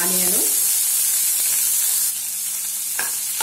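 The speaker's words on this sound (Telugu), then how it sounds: "ఆనియన్స్ మెత్తగా అయ్యేంత వరకు 1 నిమిషం పాటు ఫ్రై చేసుకుందాము" Green chillies and sliced onions frying in a couple of spoons of hot oil, a bright, continuous sizzle with faint stirring clinks and a brief soft scrape near the end.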